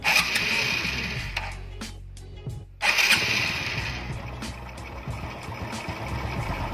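A carburetor-type engine starts and settles into idle. It runs loud and close, then cuts out briefly, catches again and holds a steady rumbling idle with no talk over it.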